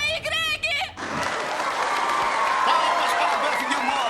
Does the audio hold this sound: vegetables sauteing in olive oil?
no